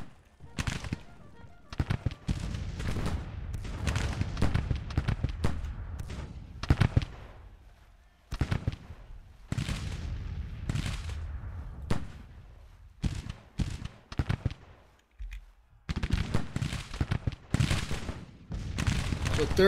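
Artillery fire rumbles through a Grand Tactician battle, the game's bursts of booming cannon and crackling volleys coming in clustered waves separated by brief quiet gaps.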